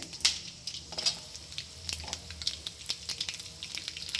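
Garlic frying in a pan for lemon chutney, a faint crackling sizzle with a few sharp clicks and light clatter, close and quiet with no voices.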